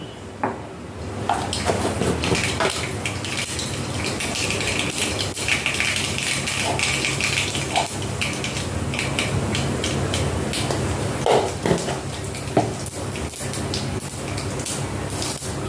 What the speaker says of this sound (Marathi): मोहरी चांगली तडतडली की जिरं टाकू